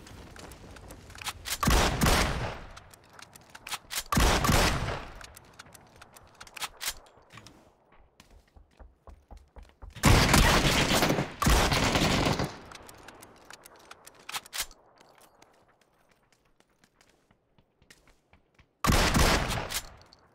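Assault rifle and sniper fire in the battle-royale game PUBG, from an AWM and an M4: loud rapid bursts of gunfire around two, four and a half, ten to twelve and nineteen seconds, with quieter clicks and shots between.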